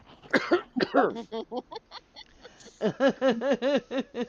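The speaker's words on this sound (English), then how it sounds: "Charles asked earlier what you were doing that was making you cough so much." Someone coughing repeatedly, a few harsh coughs followed by a fast rhythmic run of hacking coughs, close and fairly loud with no talking.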